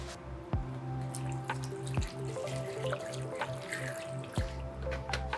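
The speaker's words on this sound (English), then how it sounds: "Okay, we're just gonna give that a quick flush." Water block from a PC liquid-cooling loop being flushed under a running tap, with a steady stream splashing in a sink and several distinct drips and plinks standing out close by.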